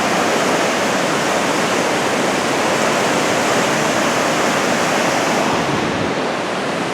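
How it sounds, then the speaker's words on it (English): The Ohanapecosh River rushes past at Mount Rainier near the Silver Falls Loop, running high, a loud, dense, unbroken roar of whitewater close by, with no talking. "the Ohanapikosh is still really flowing down here even"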